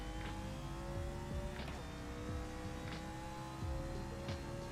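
Racing car engine from a NASCAR-style stock car with a dog-box gearbox, driven at Bathurst in a racing video game, droning steadily with repeated revving swells and shifts, close and continuous without any voices.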